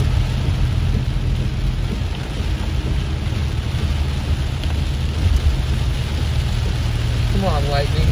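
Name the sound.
heavy rain shower during storm heard from car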